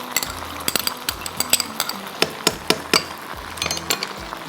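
Macaroni being mixed with chili sauce and tomato ketchup in a pan, with repeated close clinks and scrapes of a spoon against metal in an uneven rhythm over a faint hiss.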